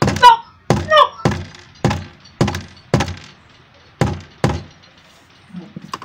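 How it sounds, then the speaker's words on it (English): A rubber hammer taps a shelf holder into wood on a DIY kitchen island, about nine dull, evenly spaced thunks ringing close and loud, with a short murmur at the end. "I am using a rubber hammer for your information so that it won't crack the shelf holder."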